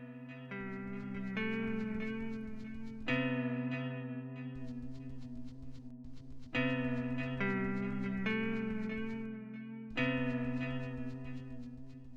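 Steady, moody electronic background music from the video game Yume Nikki's Barracks area, with sustained low drones and repeating harmonic tones, the pattern cycling every few seconds like a loop.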